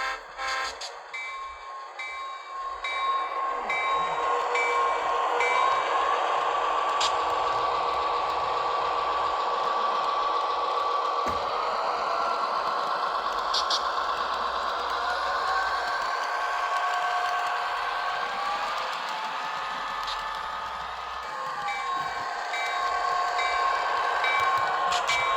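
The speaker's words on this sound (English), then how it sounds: "That's a great sounding diesel locomotive here." A model diesel locomotive fitted with an economy sound decoder rumbles steadily with a prominent droning engine tone, running continuously and close by for the whole stretch, with occasional sharper clanks and brief tonal blips.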